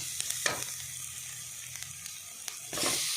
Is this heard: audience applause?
no